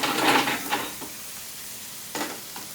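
Tomato puree sizzling in a very hot pan of oil or ghee while British Indian restaurant-style chicken tikka dansak cooks, a burst of frying hiss and stirring scrapes that settles into a quieter sizzle, then another short flare near the end.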